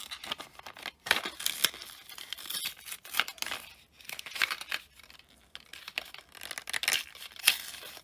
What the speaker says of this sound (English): it's harder to open the battery package.